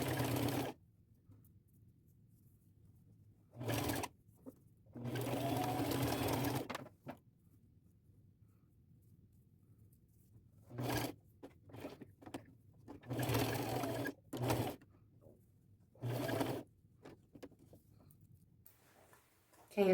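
A sewing machine stitching fabric in bursts of varying length, near and fairly loud, separated by quiet pauses, with occasional short sounds between runs.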